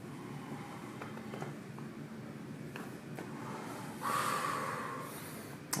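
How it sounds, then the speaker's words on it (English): A person lying on a massage table lets out a long, slow exhale at close range during an intense massage, the breath rising into a soft rush near the end over faint background noise. "slowly exhale"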